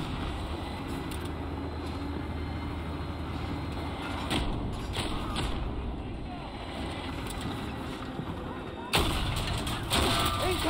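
Incoming artillery fire rumbles in the video game Battlefield 2042, heavy low booms and a continuous battlefield roar under voices, swelling louder near the end.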